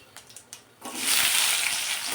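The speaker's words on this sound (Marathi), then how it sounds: "तेल गरम झालं की यामध्ये आपण जिरं मोहरी टाकून घेणार आहोत। जिरं मोहरी छान असं फुलू द्यायचं" Cumin and mustard seeds hit hot oil in a pan while cooking a spinach dish, a few soft crackles first, then a broad steady sizzle that swells and holds, close and fairly loud.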